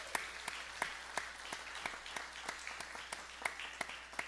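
A small, faint crowd claps for a new bass player introduced with a live band, a sparse patter of distinct individual claps at a distance, steady for a few seconds.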